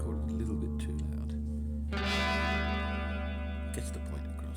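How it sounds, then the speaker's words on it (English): Guitar played through a Line 6 Pod 2.0 modeler with its reverb effect on, sustained chords ringing with a long smooth tail, a fresh strum partway through swelling the sound and letting it wash out. "There's the reverb there, very, very good."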